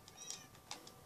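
A cat in the Minecraft video game meows a few times, short faint high mews scattered across a quiet background with no talking.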